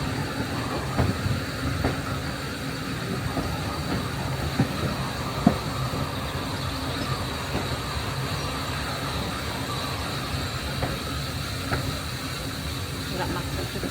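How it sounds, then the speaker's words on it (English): Heritage railway train on Peak Rail at Matlock Riverside, Derbyshire, heard as a steady low rumble with faint rhythmic rail clicks, continuous and moderately distant under a broad hiss, with no clear talk. "Now I reckon the train will run around."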